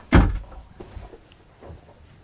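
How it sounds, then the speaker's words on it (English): A single solid thump of a cabinet door shutting nearby inside a Newmar Dutch Star 4363 motorhome, followed by faint quiet shuffling sounds. "Close that door."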